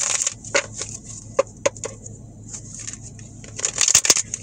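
Crisp riffling and flicking bursts of cards, a few sharp snaps then a denser flurry at the end, close and moderately loud.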